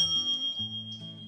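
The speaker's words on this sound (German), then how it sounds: "Da gehen die Klingeln ab hier." Railway crossing bells in the Railroader train simulation game ring in a steady repeating pattern, moderately quiet and electronic in tone, with no talking over them.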